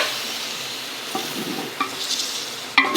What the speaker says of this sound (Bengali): হলুদ গুঁড়োটা দিয়ে আমি ভেজে নিয়েছি